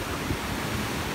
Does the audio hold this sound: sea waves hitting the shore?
yes